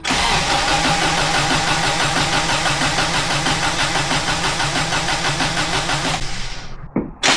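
A 30-year-old Subaru Loyale engine cranks, catches and runs loud and close for about six seconds, then cuts out abruptly, followed by a brief clunk and a short burst of noise.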